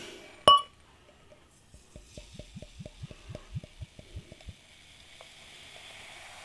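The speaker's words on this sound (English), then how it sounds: "Let's get this beer out into a glass and see what we get." A bottle of Gulden Draak 9000 Quadruple, a Belgian strong ale, clinks once against glass, then beer glugs into the glass in a quick, steady run of about a dozen soft, close gurgles before trailing off to quiet.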